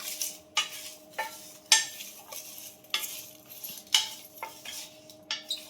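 A spoon scrapes and stirs mutton masala powder being dry-roasted in a pan over a very low flame. The strokes are quick and rhythmic, roughly ten of them, each with a soft gritty rasp over a faint steady hum, with no voices.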